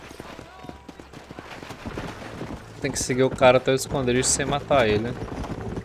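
Horse galloping in Red Dead Redemption, a soft rapid hoof rhythm running beneath game music and several people talking throughout.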